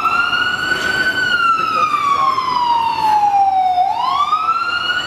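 A wailing emergency siren sweeps slowly down and rises again over steady traffic rumble on a New York City street between buildings, prominent and fairly close.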